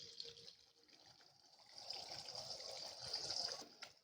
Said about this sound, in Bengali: একটা ডিম ভেজে নিচ্ছি।